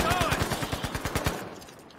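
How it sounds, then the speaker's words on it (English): A rapid burst of automatic gunfire in the video game Battlefield 5, about a dozen sharp shots in quick regular succession, fairly close, then a quieter fade. "I'm fucking shooting you guys."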